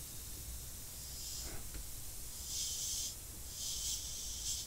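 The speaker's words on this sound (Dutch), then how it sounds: "Zo kan je licht, alleen maar lucht spuiten." An airbrush hissing with only air, its needle linked to the trigger, used for painting a Tamiya Honda F1 model kit: soft bursts of bright hiss that swell and fade several times, close and alone.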